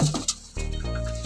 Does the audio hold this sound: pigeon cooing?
yes